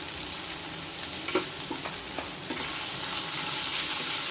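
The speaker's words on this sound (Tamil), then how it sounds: "இது நல்லா வதங்கும் இந்த அளவுக்கு வெந்திருக்கு" Ingredients for Tamil drumstick kootu sauté in a hot pan with a constant loud sizzle, and a few light stirring scrapes and taps sound in the first half. No one speaks.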